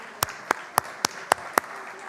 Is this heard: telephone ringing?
no